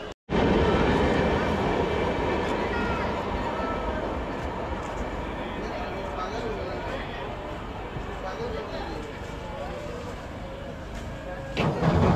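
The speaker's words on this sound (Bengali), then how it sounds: "মানিকপুর জংশন থেকে আমার ট্রেন এখন 9টা 45 পুরো একদম টাইম টু টাইম ছেড়ে দিল" A train departing Manikpur Junction, a loud continuous rumble of wheels and carriages that holds steady and slowly eases, with a sharp bump near the end.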